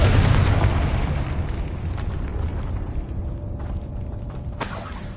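A Confringo spell explosion in Hogwarts Legacy erupts as a loud, dense boom, its rumble fading over several seconds with no talk over it.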